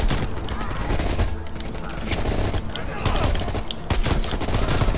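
Rapid gunfire from the Call of Duty: Black Ops Cold War campaign, dense and loud throughout with repeated sharp shots over game sound and some voice.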